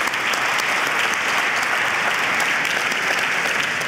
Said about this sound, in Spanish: Un aplauso también para Steven.